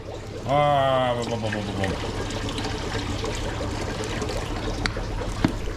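Steady rushing water runs throughout as an axolotl tank is filled, with a brief rising tone near the start and a small knock toward the end.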